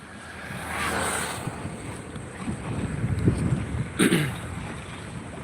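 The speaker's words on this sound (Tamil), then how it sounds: "அலை அடிக்குது பாருங்கள்" Sea waves breaking on the shore near Kattumannarkoil, a broad wash of surf under steady wind noise, with a louder crash building around the middle and another short surge near the end, no talk.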